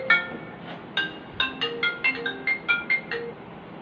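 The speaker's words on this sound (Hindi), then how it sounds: "मेरे पास एक फ़ोन हो रहा है।" A telephone ringtone plays a bright, repeating melodic pattern of short electronic notes, loud and alone for several seconds.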